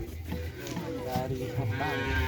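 A cow brought from Sampang moos in a short, close call amid a busy outdoor crowd with people chatting around it.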